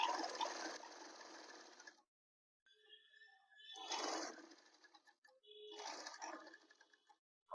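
Sewing machine stitching along a pant hem: quiet bursts of rapid mechanical chatter, separated by brief pauses, close and faint.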